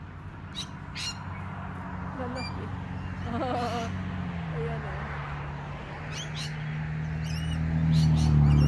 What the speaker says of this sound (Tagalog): Ingay. May parrots.